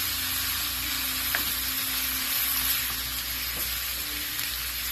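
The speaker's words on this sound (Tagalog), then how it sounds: "gigisa lang natin. Palalambutin lang natin yung beef." Beef sautéing in a pan gives a continuous, close, even sizzle with faint occasional stirring clicks and a low steady hum underneath, no one speaking.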